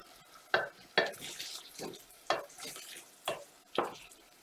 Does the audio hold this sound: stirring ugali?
yes